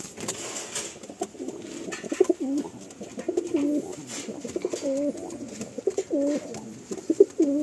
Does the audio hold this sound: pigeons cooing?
yes